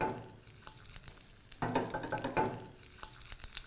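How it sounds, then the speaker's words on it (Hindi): Tempering of cumin, mustard seeds, curry leaves and red chilli in hot oil for Gujarati kadhi, a sharp burst of loud sizzling and crackling that surges, then settles into softer popping and stirring. "चलो ये तड़के पे आते हैं फटफट। जीरा, राई, कड़ी पत्ता और अपनी लाल मिर्च।"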